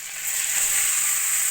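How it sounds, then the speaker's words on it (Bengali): Grated carrot drops into hot ghee with a bay leaf and two cardamom pods for carrot halwa, setting off a steady, bright sizzle that holds at an even level throughout, close up and with no talking. "দিয়ে দেব এবার গ্রেট করে নেওয়া গাজর।"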